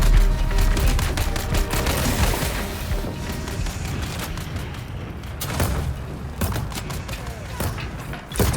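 Turret gunfire in the video game Dune Awakening: a dense, rapid barrage of shots and booms running continuously and loud throughout, with brief surges of heavier blasts.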